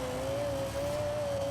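A Lexus LFA V10 in Forza Horizon 4 holds a steady, high-pitched engine drone at sustained revs, loud and continuous throughout with only slight pitch drift.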